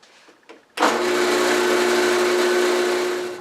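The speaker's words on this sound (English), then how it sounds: "we're going to drill a hole in the side" A power drill whines up suddenly after a couple of soft clicks, then runs at a steady high-pitched buzz for a few seconds before winding down, drilling a hole into the side of a wooden flask.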